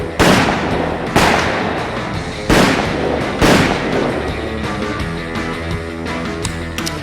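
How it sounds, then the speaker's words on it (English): Several loud gunshots crack out one after another at uneven intervals, each followed by a reverberant tail, as a man shoots everyone in a room, the later blasts fading into a lingering rumble. "Brad pulled a gun and shot everyone in the room"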